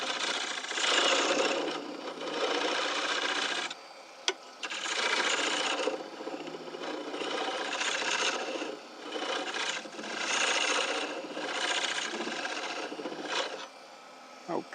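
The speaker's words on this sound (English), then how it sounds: "I'm going to cut the rest of that flat with the scraper or a bowl gouge." A woodturning scraper cuts a wooden bowl flat on a lathe, making a steady hissing, rasping scrape in long bursts with short gaps between passes, close and fairly loud, with no talk.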